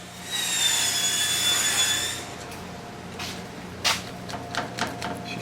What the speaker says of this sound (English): She's still scraping old adhesive.